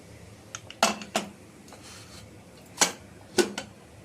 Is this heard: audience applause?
no